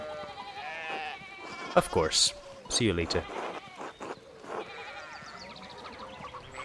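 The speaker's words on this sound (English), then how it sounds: "we need to get these sheep under control." Sheep bleat in the video game Pentiment, several wavering calls rising over a steady game backdrop, with people talking around them.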